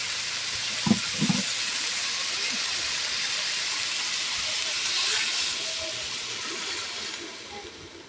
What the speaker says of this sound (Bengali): সুন্দর করে এখন পানি দিয়ে দেবো।